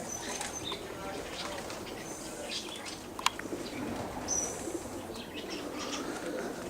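Pigeons softly cooing around a racing pigeon loft outdoors, faint intermittent calls over steady background noise, with a single sharp click partway through.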